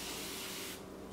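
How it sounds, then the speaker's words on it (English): A spray bottle filled with plain water mists onto hair in one close, hissing burst lasting just under a second, followed by quiet. "I have literally the world's best spray bottle here, and I just added just some regular water."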